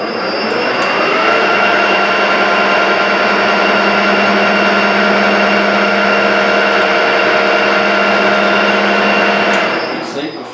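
A lathe or similar machine tool runs steadily, taking a light skim cut of a few thousandths off a metal part, a continuous loud whirring hum with tonal whine holding even for about ten seconds before easing off at the end.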